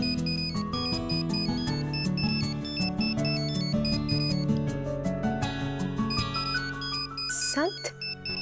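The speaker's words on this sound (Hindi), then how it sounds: "ये मुझे क्यों फोन कर रहा है?" A phone ringtone plays a loud repeating melodic tune, close and continuous, over background music in a dramatic TV serial scene.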